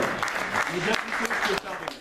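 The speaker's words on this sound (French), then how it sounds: "On peut quand même l'applaudir" Diners at an Anjou paramotor club dinner in 2013 clap steadily in a busy room while someone talks over the applause.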